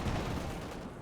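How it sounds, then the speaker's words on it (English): Machine gun fire in the World War II strategy game Company of Heroes 2, a dense, steady low rumble of battle noise lasting about a second with no clear separate shots. "machine gun there as well"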